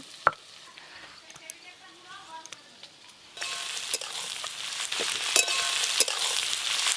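Chopped onions, already softened, frying in a pan: a quieter stretch with faint voices and a few clinks gives way to a loud, steady, close sizzle with occasional stirring scrapes.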